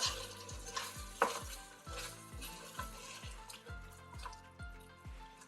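Dried fish being stirred into Efo Riro, a Nigerian vegetable soup, in a pot: a steady, repeated spoon scraping and a soft wet sizzle, about ten rhythmic strokes, close and moderately loud with no talking.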